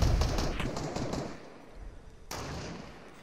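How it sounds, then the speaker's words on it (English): Gunfire in the video game Fortnite, a burst of rapid shots that rings out loud at first and fades, then a second sharp report with a decaying tail. "He's really going to shoot that whole thing down"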